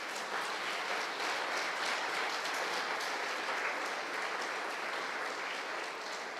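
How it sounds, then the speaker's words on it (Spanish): A church congregation applauds in a steady, sustained wash of clapping from many hands, evenly loud throughout. "¿Por qué le damos un aplauso al Señor?"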